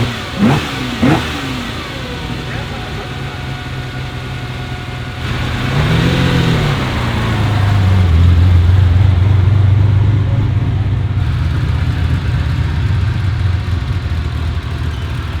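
A 1964 Ferrari 250 Lusso's V12 engine revs with a rising, sustained roar after a few short blips, loud and close, building to a steady high-rpm drone.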